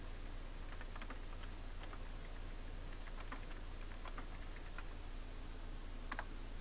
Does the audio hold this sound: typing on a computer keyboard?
yes